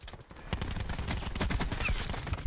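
SMG fire in a video game chatters in rapid, dense bursts that run nearly without pause, loud and close.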